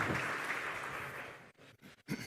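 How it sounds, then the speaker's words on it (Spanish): Soft audience applause at a tech and medicine forum panel fades out after about a second and a half, leaving brief gaps broken by a couple of scattered bumps and a short voice. "Un fuerte aplauso para ella."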